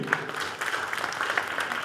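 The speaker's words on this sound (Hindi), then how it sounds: "पहले तो इनके लिए जोरदार तालियां बजाइए" An audience at a stage music show applauds, a dense steady patter of many hands clapping at moderate volume without letup.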